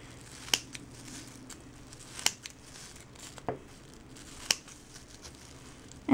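Scissors cut through plastic bags in a few sharp, separate snips spaced a second or more apart, with faint crinkling of the plastic between them over a quiet background hum.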